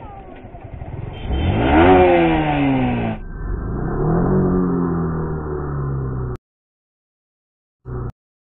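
A Yamaha R15 V4 motorcycle engine revs up loudly, then settles into a steady drone before cutting out, followed by one short burst of engine noise.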